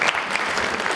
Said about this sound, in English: A little applause for